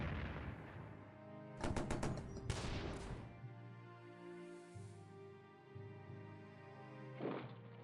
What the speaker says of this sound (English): Some defensive artillery there.